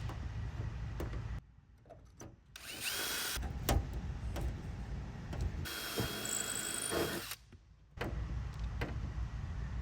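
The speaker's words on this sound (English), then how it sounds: "repeat that same process with piloting the holes and running my screws on this side" Power drill piloting holes and driving screws to mount LED docking lights on a pontoon boat, a loud whirring motor running in long bursts with brief pauses between, close up.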